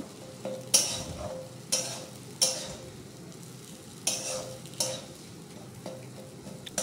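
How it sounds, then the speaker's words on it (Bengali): Potato mixture for aloo chop frying in a pan, heard as a quiet sizzle with several sharp scraping stirs of a spatula recurring every second or so. "অলমোস্ট আমার আলুর মিশ্রণটা হয়েই যাচ্ছে, আর একটু ভেজে নিই সুন্দর করে।"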